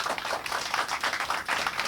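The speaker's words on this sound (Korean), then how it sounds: "박수 한번 하시죠." An audience at a political press conference in a partitioned hall applauds, dense pattering claps at an even level that keep going for the whole stretch, heard from a middle distance.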